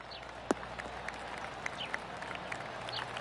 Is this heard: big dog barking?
no